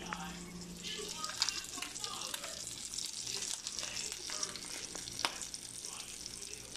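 Chicken sizzles steadily in a frying pan, a continuous hiss with occasional louder pops and stirring sounds, fairly close and moderately quiet.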